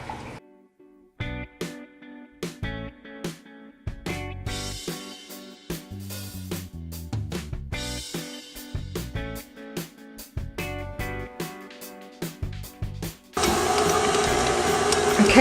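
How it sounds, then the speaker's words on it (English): A stand mixer kneads garlic pull-apart loaf dough in a bowl, giving intermittent rhythmic mechanical clatter and thumps in short bursts, ending in a louder continuous rattle. "I'm gonna stop my mixer and check my dough process"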